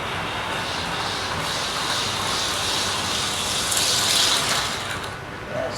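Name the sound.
model railway train running on the track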